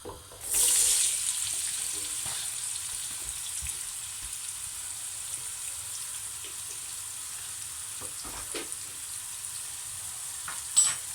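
Small onions hit hot oil in a single pot for aloo gobi curry, bursting into a loud hiss that settles into a steady, softer sizzle with occasional stirring clicks.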